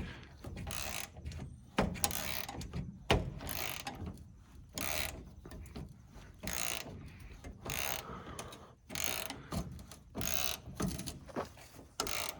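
Wrenches tightening a bolt on a corn dryer give repeated ratcheting clicks and metallic clanks in irregular bursts, close and fairly loud, with brief pauses between strokes and no talking.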